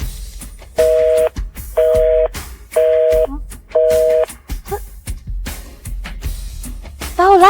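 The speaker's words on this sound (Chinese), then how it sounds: "我现在就给小帆打电话，让他马上过来。" A phone call goes out in a Chinese drama scene: four evenly spaced electronic ringback tones pulse on the line, each about half a second long, alongside faint rustles and a few higher warbling beeps at the end.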